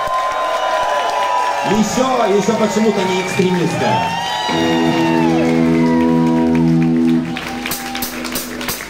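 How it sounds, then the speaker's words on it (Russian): Crowd noise at a live concert in Warsaw, cheering and whooping with a steady roar under sung or shouted voices and sustained musical tones, loud and close throughout. "под ваши бурные аплодисменты"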